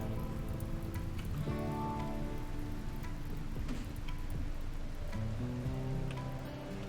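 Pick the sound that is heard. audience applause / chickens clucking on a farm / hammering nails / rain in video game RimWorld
rain in video game RimWorld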